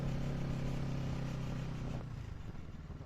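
A motorcycle rides along with a steady engine drone that eases slightly near the end, heard from on the bike.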